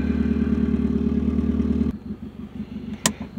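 A car with an open exhaust idles while warming up, a loud, steady low rumble with a rapid pulsing beat that drops abruptly to a quieter, lumpier idle partway through, followed by a brief sharp click.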